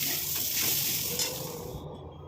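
Food frying in a pan in a home kitchen makes a loud, steady close-up sizzle that holds throughout and eases slightly before cutting off at the end.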